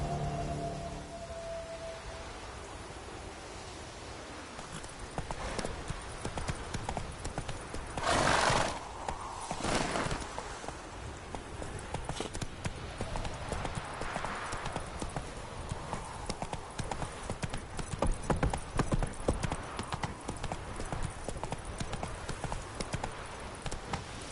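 Horse in The Witcher 3 on PS4 clip-clopping steadily with a loud whinny partway through, hooves continuing under faint rain-like ambience and a brief voice.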